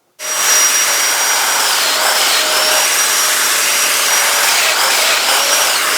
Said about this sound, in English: That is the TS55 inside the CMS unit, so that I can have a small table saw